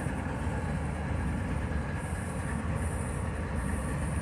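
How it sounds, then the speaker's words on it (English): A CSX train rumbles steadily past close by a crossing, with a continuous heavy roar and thin metallic squeals from the wheels. "Like I said, the train pulled in,"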